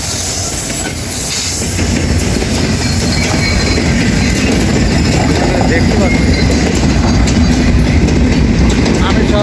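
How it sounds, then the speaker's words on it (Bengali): A train rolls past on a railway line close by, a loud, steady rumble with clattering wheels and metallic squeal filling the whole stretch from start to end. "হঠাৎ করে ট্রেনটা চলে আসছে"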